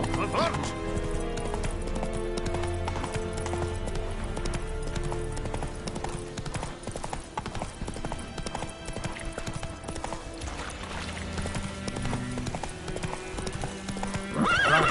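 Roach, a horse in The Witcher 3 video game, gallops with steady, loud clip-clop hoofbeats and an occasional whinny, set against continuous game music throughout.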